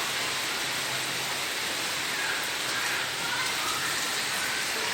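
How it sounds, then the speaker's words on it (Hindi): Heavy monsoon rain falls steadily and loudly outdoors, a dense, even hiss with no break, close and constant throughout. "देखो भाई क्या बारिश हो रही है"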